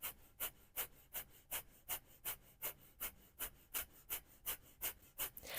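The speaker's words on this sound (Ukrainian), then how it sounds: "Це дихання очищувальне, і воно допомагає почати день динамічно і активно." Rapid rhythmic breath of fire from a Kundalini yoga cleansing breathing exercise, quick sharp exhales at an even fast pace, close and fairly quiet, with no talking.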